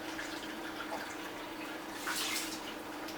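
Filtered water pours steadily into a cooking pot with a continuous splashing rush, swelling a little louder toward the end.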